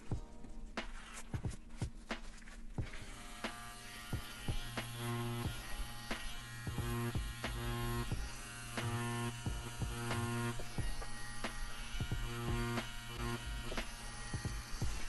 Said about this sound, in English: switch over to my liner, clean it up really good, and do a little bit of detail in it